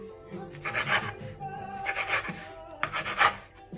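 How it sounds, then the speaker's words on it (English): A knife sawing through bread, cutting it into bite-sized croutons, with three bursts of rasping up-and-down strokes, close and moderately loud, with no talking. "Let the knife do the work, up and down. And those are going to be our croutons."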